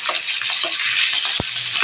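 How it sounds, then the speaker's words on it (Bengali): Fish fry in hot oil in a pan with a steady, close sizzle, broken by a few soft scrapes and a single dull knock as the pieces are turned over. "দুদিকটা উল্টে দেবো, তাহলে ভাজাটা দুদিকে সমানভাবে হবে।"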